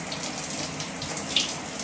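A shower runs steadily with a continuous broadband hiss of falling water, close and unbroken, with no voices.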